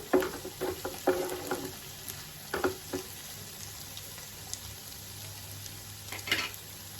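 Curry leaves dropped into a pan of spicy egg curry give a sizzle with a few sharp crackles and stirring clicks over a steady frying hiss, close and unvoiced.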